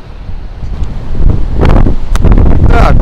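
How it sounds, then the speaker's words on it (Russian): Strong sea wind at Nha Trang, Vietnam, in February, roaring and buffeting the microphone in loud continuous gusts that build toward the end, with surf faintly audible beneath. "сегодня с самого утра все так же дует сильный ветер"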